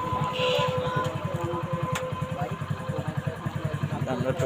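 A motorcycle is parked at a rural village market in Godagari. Its engine putters in a steady, close idling rhythm throughout, with faint background voices.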